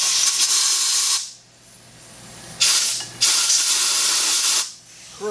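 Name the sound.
compressed air blowing crud out of bolts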